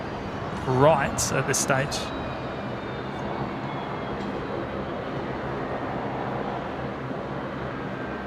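An airplane on approach to runway 19 at Brisbane Airport, a steady distant engine roar that holds evenly throughout, with a brief burst of nearby talk near the start.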